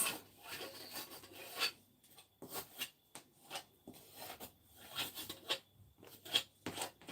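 Close-up knife strokes trim a red velvet cake, heard as a series of soft, rasping scrapes in irregular bursts, each lasting a fraction of a second and separated by short quiet gaps, with no speech.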